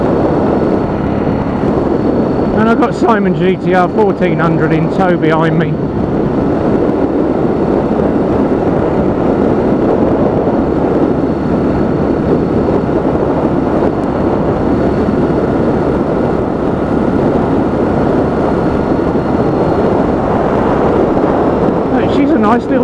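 Yamaha XT500 single-cylinder motorcycle engine droning steadily at modest revs while riding on the road, with heavy wind rush throughout and someone talking briefly near the start.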